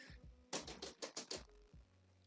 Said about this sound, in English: If you guys hear really aggressive clicking or clacking of keys in the background